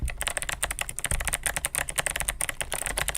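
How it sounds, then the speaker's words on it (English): Rapid typing on a clicky 8BitDo mechanical keyboard, a dense run of sharp, crisp key clicks in an uneven rhythm, close and loud, with no talking. "It reminds me of a Razer keyboard. It's very clicky."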